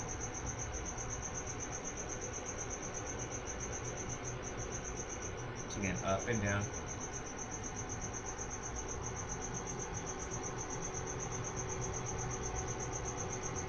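A cricket chirps loudly and constantly through the whole stretch, a steady high trill. A voice briefly gives instructions for a neck stretch partway through.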